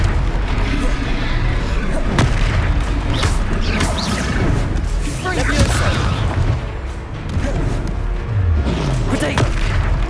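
A Confringo blasting spell goes off in the Hogwarts Legacy video game as several heavy booms and crashes burst through dense, continuous combat noise, with a voice speaking over the fight.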